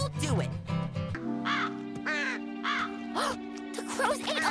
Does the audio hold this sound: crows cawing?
yes